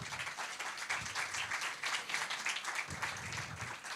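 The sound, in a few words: audience applause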